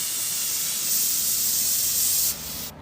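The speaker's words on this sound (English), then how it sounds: "I'm gonna shake the bottle and then spray it directly on there." A steady hiss as an aerosol can of starting fluid sprays directly onto the carburetor of a lawnmower that won't start, running close and loud for more than two seconds before cutting off.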